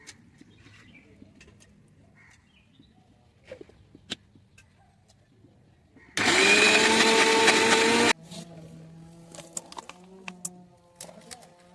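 Kitchen mixer grinder grinding soaked, washed lentils: a loud steady whir runs for about two seconds and stops abruptly, set among quiet household sounds and birds cooing in the background.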